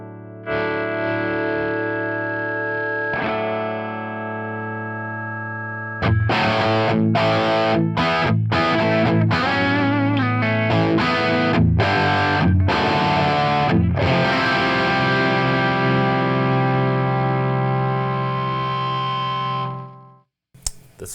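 Electric guitar through a Marshall JTM 45 amp with both channels blended: a held chord first, then a burst of choppy strummed and picked notes, ending in a long sustained ring that cuts off. It is loud and close, with no talking.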